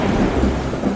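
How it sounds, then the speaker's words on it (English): A dense wash of heavy rain with a deep rolling rumble of thunder, loud and continuous throughout. "It starts raining heavily outside."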